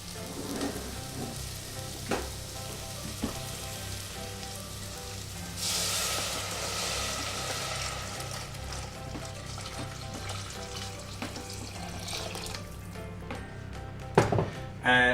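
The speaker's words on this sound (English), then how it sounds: "So it's a good idea to now add your vegetable stock." Vegetable stock is poured into a pan of softened butternut squash and translucent vegetables, with a loud hiss and splash over continuous frying sizzle and occasional utensil knocks.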